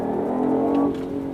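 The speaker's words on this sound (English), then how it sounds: "You see, when I arrive to the red line, it changes gear automatically." A BMW i8 engine revs hard in first gear toward the redline, a loud, steady mechanical drone with a slight shift in tone near the end of the short burst.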